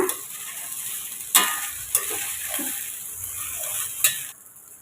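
Cauliflower fried rice is stirred in a pan over a constant sizzle, with a few crisp spatula scrapes against the pan before the frying sound drops away at the end.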